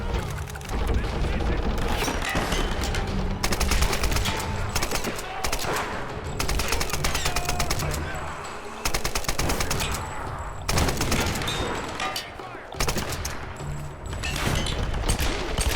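Rapid automatic gunfire in the Tomb Raider game, loud sustained bursts broken by short pauses, repeating across the stretch with speech mixed in.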